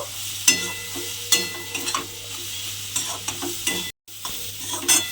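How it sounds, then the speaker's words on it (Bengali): Marinated soybean chunks are sautéed in a pan with spices, giving a crackling sizzle broken by repeated scraping stirs and clinks of a spatula, all close and with no voices. "সয়াবিনটা দিয়ে আমি এর সঙ্গে খুব ভালোভাবে একটু কষিয়ে নেব।"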